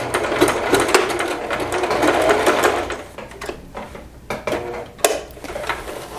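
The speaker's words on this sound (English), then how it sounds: "I'll stitch all the way down. And I will back stitch at the end too" A sewing machine runs steadily for about three seconds stitching a seam, then breaks into short stop-start bursts as it back stitches at the end, close and fairly loud with no talking.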